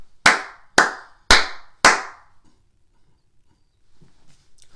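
Four sharp hand claps in a steady, evenly spaced rhythm, close and loud, followed by near silence with faint small sounds.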